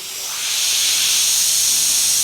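Oil-based rustproofing top coat sprayed onto a 2024 Ford Maverick, a steady loud hiss that swells in over the first half second and then holds evenly, close and without talk.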